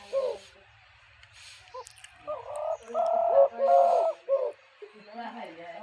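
Pet pigeons kept through bitter cold give a few soft, low coos in short bursts near the middle, with faint chirps and a quiet voice in the background.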